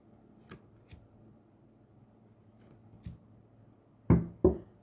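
Tarot cards are shuffled in a few soft riffling bursts, quiet ticks early on and two louder, close shuffles near the end, with no talk over them.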